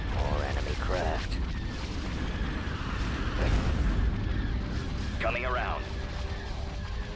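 Space battle in Empire at War: Thrawn's Revenge, with continuous rumbling explosions and cannon fire, a few laser-like chirps cutting through, while radio-style voices talk over the din.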